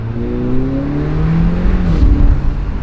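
A car fitted with an ECS Tuning downpipe pulls hard through the gears, its engine note rising in pitch, dropping at a shift and climbing again, close and loud with no talk.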